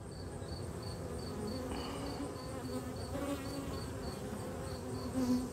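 Honey bees carrying goldenrod pollen buzz at an open hive after the honey flow, a steady, close, dense drone that runs throughout with no talking.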